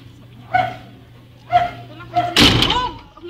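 A dog barks a few times at close range, with sharp bursts spaced about a second apart and a louder clatter near the end, as people talk around it.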